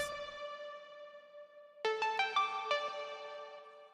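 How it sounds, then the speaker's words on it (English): A bright synth pluck tracing a melody: one sustained tone fading out, then after a pause a quick run of sharp plucked notes ringing over each other, clean and alone. "a pluck derived from the original melody"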